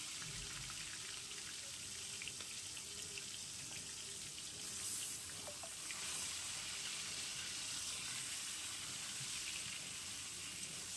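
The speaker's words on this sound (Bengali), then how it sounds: "এরপর তেলের মধ্যে আমি চিকেনগুলোকে" Chicken pieces frying in hot oil over a high flame, giving a steady broadband sizzle and crackle that stays even and moderately faint throughout, with no talking.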